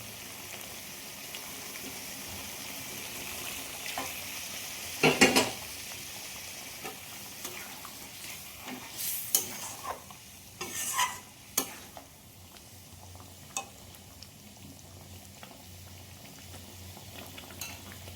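Chicken and sesame curry with pumpkin simmering and frying in a pan after water is added, a soft continuous bubbling sizzle with occasional clinks and scrapes of a stirring spoon, close by and with no talking.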